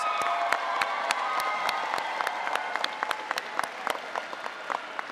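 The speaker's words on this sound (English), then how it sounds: "give them a round of applause" Graduation ceremony audience in a large hall clapping for their supporters, sharp overlapping claps with some cheering, loud at first and thinning slightly toward the end.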